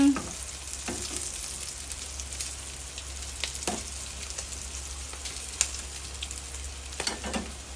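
Unmarinated chicken breast fries in hot oil, a dense steady sizzle and crackle with sharper pops now and then, close and continuous throughout with no talking.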